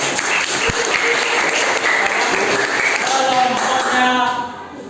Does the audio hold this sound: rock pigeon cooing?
no